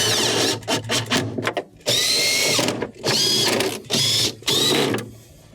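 Power driver tightening screws on a Whirlpool refrigerator during a fresh-food defrost repair, heard as several loud, close bursts of whirring, each about a second long and separated by short pauses.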